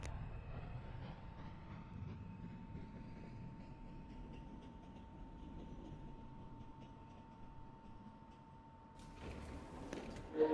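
New York subway 3 train rolling between stations, a steady low rumble with a faint constant tone inside the car, quietly sustained before a brief louder rattle near the end.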